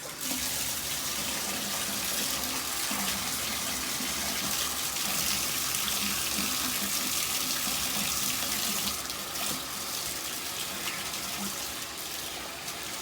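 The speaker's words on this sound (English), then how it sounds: "we're going to rinse all of the bleach out of the shirt. And I need warm water." Steady running warm tap water with hissing splashes as a bleached tie-dye shirt is rinsed under the stream, continuous and close.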